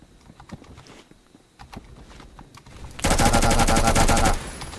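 Krinkov AK-pattern rifle firing in the Phantom Forces video game, with scattered single shots and footsteps leading into a loud, rapid full-auto burst of about a second and a half, close and alone.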